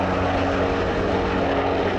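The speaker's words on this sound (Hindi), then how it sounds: "छह दशक से भारतीय सेना की सेवा में शामिल MiG-21 एक फाइटर जेट मात्र नहीं है" A MiG-21 fighter jet flies overhead, its engine a dense, continuous broadband roar that holds steady and loud throughout.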